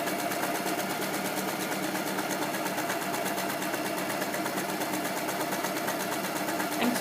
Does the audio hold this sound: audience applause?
no